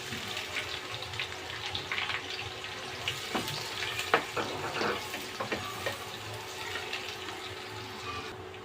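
Chopped onions sizzle in hot oil in a pan while cooking a chicken pulao, giving a soft, steady frying hiss with scattered small pops and clinks and no talking.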